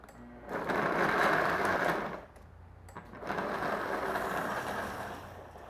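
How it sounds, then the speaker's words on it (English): A blender runs in two bursts, whirring a chocolate blueberry almond butter smoothie with almond milk, loud and close with a short pause between runs. "Trusty blender, and give this a whisk."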